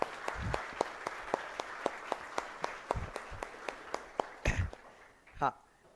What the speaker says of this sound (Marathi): सर्वांसाठी छानपैकी टाळ्या वाजूया